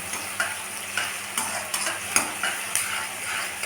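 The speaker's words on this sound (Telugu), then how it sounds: "అన్నీ నేతిలోనే వేయించుకోవాలండి" Melon seeds and nuts frying in ghee for an Eid kheer give a soft, steady sizzle, broken by light intermittent clicks from stirring, with no voices.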